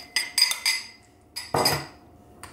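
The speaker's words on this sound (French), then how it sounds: "Je mélange." Melted butter being stirred into sugar in a mixing bowl for an easy lemon meringue tart, with a utensil clinking against the bowl in a few quick strokes, a pause, then a louder scraping knock and a faint final tap.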